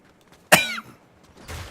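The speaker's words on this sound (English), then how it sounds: "I wish I could figure out what's making me cough so much these days" A single short, sharp cough stands out close to the microphone in an otherwise quiet room.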